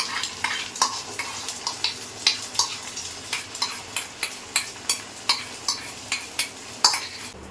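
An egg omelette frying in hot oil at home, a steady sizzle broken by regular stirring or scraping clicks about twice a second, close and fairly loud, with no talking.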